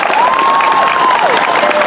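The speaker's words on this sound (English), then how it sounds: "I think it's time to give them a round of applause." An audience at a graduation ceremony applauds in a dense, loud, continuous patter of clapping, with a faint whistle or cheer rising above it.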